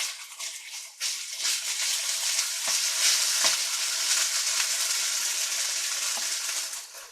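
Cornstarch-coated pork cubes sizzling in a non-stick pan, a steady bright crackling fry with a few soft clinks and stirring scrapes, close and continuous with no talking.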